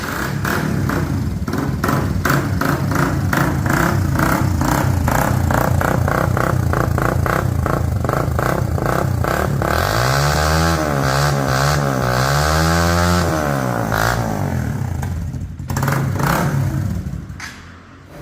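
A Hi Speed Infinity motorcycle engine, kick-started, idles with a fast, chunky rhythm, then revs up and down, loud and close, before settling back.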